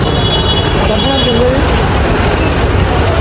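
Loud, constant rumble of a free bus ride to the Kanaka Durgamma temple in Vijayawada, engine and road noise filling the cabin with a faint background voice.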